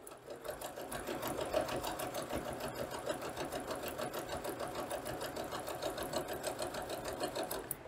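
Sewing machine stitching a seam on a braided table runner, a steady fast mechanical whir and needle chatter running evenly throughout at moderate volume with no voices.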